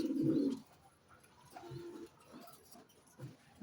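Pigeons, including females and racer pairs, coo in a loft. A loud low coo opens the clip, then softer repeated coos and rustling follow at moderate distance.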